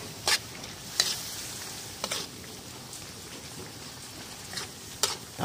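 Okra and chili peppers being stirred in an oily, sizzling pan, with a steady fry hiss and several brief scraping strokes of the utensil spread across a few seconds, no voices.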